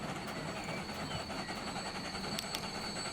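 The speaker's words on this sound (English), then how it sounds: "So let's wait for the train to load up everything it can" Coal train in Transport Fever 2 video game running on a UK rail line, a steady, fairly loud broadband rumble with faint clicking and a few brief higher tones, continuous throughout with no talk.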